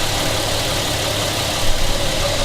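A car engine idles steadily at close range with a dull, continuous mechanical knock running underneath, and no one speaks.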